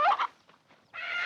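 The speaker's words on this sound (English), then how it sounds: "what's happened to that old hen?" A hen squawks in a 1941 film scene, two short, sharp squawks close by, followed by a longer harsh cry after a brief pause, with no voices over it.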